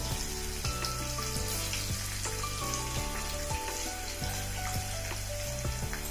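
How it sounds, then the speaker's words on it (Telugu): Cashews, curry leaves and a pinch of turmeric fry in hot oil in a pan, a steady close sizzle with occasional crackles and stirring scrapes, no talk over it. "వీటిని దోరగా వేగనిద్దామండి"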